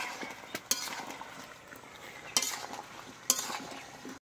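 A spoon stirs jaggery into bottle gourd in a frying pan, a soft continuous scraping and sizzle broken by three sharp metallic clinks against the pan.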